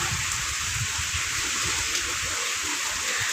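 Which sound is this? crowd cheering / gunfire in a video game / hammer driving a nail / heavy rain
heavy rain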